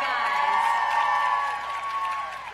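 An audience at the Miss Teen USA 2018 competition applauds and cheers, a brief, fairly loud burst of clapping and whoops that eases slightly toward the end.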